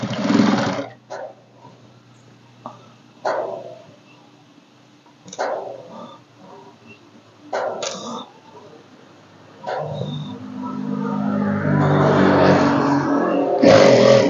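A sewing machine stitches the last edge of a sofa cushion cover in bursts, short runs separated by pauses, then a longer steady stretch near the end, close and moderately loud.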